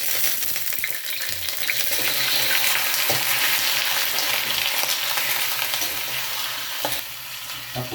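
Chicken frying in a pan with browned garlic and onion, a loud continuous sizzle close up with occasional stirring scrapes, no voices over it.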